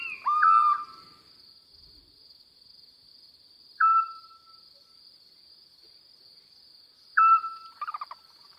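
Eurasian scops owl giving its short, single whistled note three times at regular intervals of several seconds, clear and moderately near, against a constant high-pitched cricket trill.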